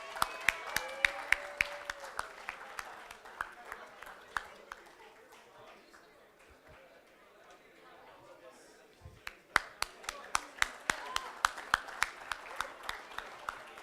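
Scattered hand claps from a small audience at a marketing conclave awards moment, thinning to near silence midway before picking up again in a brisk, uneven patter, with talking over much of it.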